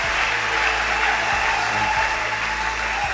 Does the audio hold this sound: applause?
yes